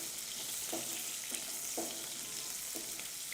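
Onions stirred into cauliflower frying in a pan, with a steady sizzle throughout and a few soft scraping strokes of the spoon at a slow, regular rhythm, close by and fairly quiet.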